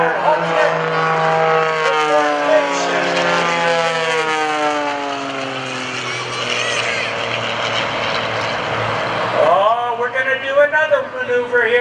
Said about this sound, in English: Greg Connell rolling the airplane